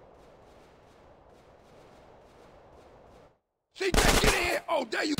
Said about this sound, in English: They blasting like fools in this motherfucker!